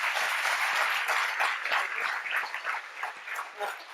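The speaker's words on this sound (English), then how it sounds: "A round of applause for Dr. Jinek" Sustained audience clapping greets Dr. Jinek, a CRISPR researcher, as he stands up during a lecture, a steady patter of many hands filling the room at moderate loudness.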